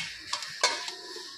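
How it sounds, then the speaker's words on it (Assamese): A lid goes onto a cooking pot of fish and taro-leaf curry: a few quick metallic clinks and one sharper clack as it settles, with a faint simmer beneath. "এতিয়া মই ঢাকন মাৰি দিম"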